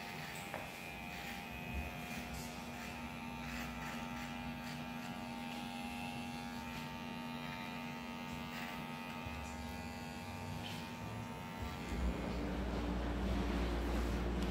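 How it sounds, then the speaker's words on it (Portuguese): An electric hair clipper buzzes steadily while trimming the nape of the neck during a basic haircut, close and continuous with a humming drone that grows louder near the end. "Agora eu vou passar a maquininha no pezinho."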